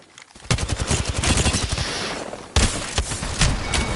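Gunfire in the battle-royale game Apex Legends, with rapid automatic bursts of loud, close shots rattling almost continuously for several seconds, briefly easing before a fresh volley.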